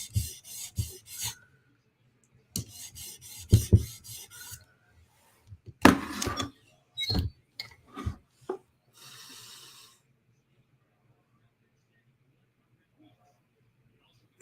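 A blade rubbed on a sharpening stone gives bursts of rhythmic rasping strokes, loud and close, broken by pauses, scrapes and short taps, then a softer buzzing rub near the end.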